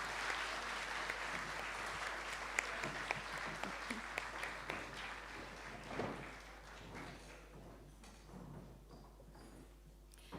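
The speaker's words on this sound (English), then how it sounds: "Round of applause, everybody." Audience at a school sports and cultural prizegiving clapping, a sustained dense round of applause from a crowd that holds steady and then gradually fades toward the end.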